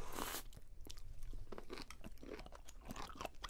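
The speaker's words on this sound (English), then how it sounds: "Can you hear the crunch?" Raw, very fresh sea cucumber being bitten and chewed gives repeated wet, crunchy bites, close and intimate, in an irregular rhythm of crisp snaps with no talking.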